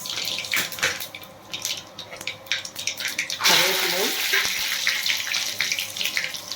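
Mustard seeds crackle and spit in hot oil while making a Tamil thala curry fry, a quick scatter of close pops and hiss that swells into a busy sizzle partway through, with faint running-water noise in the background.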